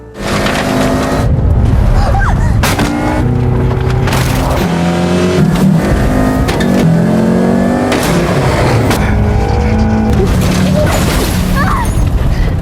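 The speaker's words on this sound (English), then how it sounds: "the two of them engage in a high-speed car chase" Loud car engines roar and rev continuously during a high-speed car chase, shifting pitch as they accelerate, with screeching and a few heavy impacts mixed in.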